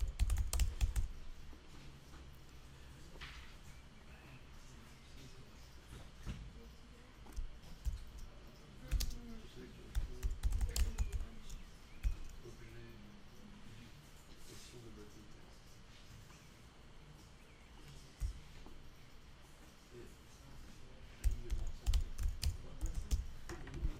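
Someone types on a computer keyboard at a desk while working in Adobe InDesign, with irregular bursts of close key clicks and clacks, pauses between runs, and someone talking at times over the typing.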